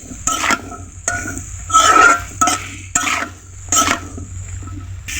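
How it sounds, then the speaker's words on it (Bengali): A knife stirs chopped onion in a metal pan for a lady's finger fry, giving loud clattering scrapes and clinks in several separate bursts over a faint sizzle, close up with no voices. "পেঁয়াজ কুচি ছুরির সাহায্যে এভাবে দুই মিনিট নেড়ে নিতে হবে"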